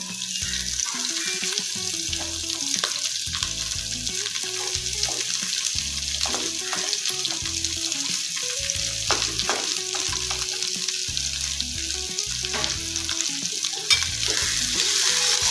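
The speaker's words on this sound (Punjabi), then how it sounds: "2 ਮਿੰਟ ਇਦਾਂ ਹੀ ਆਪਾਂ ਇਹਨੂੰ ਫਰਾਈ ਕਰ ਲੈਣੇ ਆ" Onions sizzle with garlic in a pan while pumpkin sabzi is cooked Punjabi style, a steady close crackle of frying with stirring scrapes and clinks throughout.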